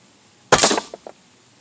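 A Notos Gen2 air rifle fires a single sharp crack at a target, followed by a brief ring and two small knocks as the shot strikes, then quiet.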